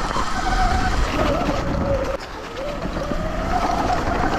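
Dirt bike engine labouring up a steep rocky slope, a steady broadband drone with a wavering whine near and loud throughout, briefly dipping midway.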